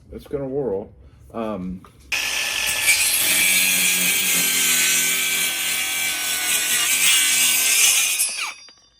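A cordless 20-volt mini circular saw cuts through wood with a loud, steady high-pitched whine lasting several seconds, preceded by brief talk.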